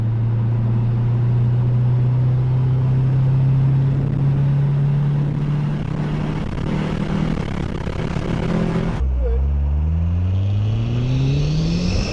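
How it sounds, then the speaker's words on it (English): A Mitsubishi Eclipse with a newly made mid exhaust pulls hard in third gear, its engine note climbing steadily and loud before a sudden drop and renewed rise. "we're gonna do a little pull in third gear and see how it goes."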